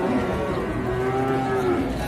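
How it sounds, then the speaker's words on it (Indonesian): A thin, aging cow at a cattle market gives one long, sustained moo, loud and close against a steady background din, with no speech over it. "Sapinya sampai tulangnya kelihatan"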